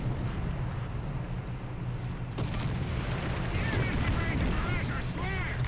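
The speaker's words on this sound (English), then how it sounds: "Alright, we got artillery called in." Distant artillery fire booms repeatedly in the War Thunder tank battle on a jungle map, low rumbling blasts in a steady noisy battlefield bed, with whistling tones appearing later.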